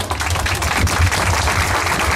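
Crowd applause at an outdoor health centre opening ceremony in Çanakkale, a dense, steady wash of clapping that stays loud and even throughout with no talking over it.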